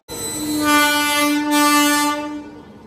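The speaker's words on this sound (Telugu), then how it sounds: "వ్యాప్ 7 లోకోతో అయితే వస్తుంది విశాఖ ఎక్స్ప్రెస్." A WAP-7 electric locomotive hauling the Visakha Express sounds one loud, steady horn blast lasting about two and a half seconds as the train arrives, then fades at the end.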